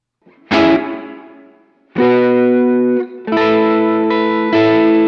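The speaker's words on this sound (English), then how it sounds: "let's see what a shorter decay and smaller reverb sounds like" Electric guitar through a worship pedalboard set to a shorter decay and smaller reverb, playing ringing strummed chords: one chord fading out, then a series of sustained chords with short, natural tails.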